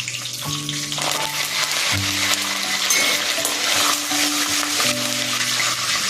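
Curry leaves crackling and sizzling in hot oil already holding mustard seeds and cumin, a steady loud frying hiss with sputtering pops throughout, close up, while a pan of leftover chapati and bhakri churma is started.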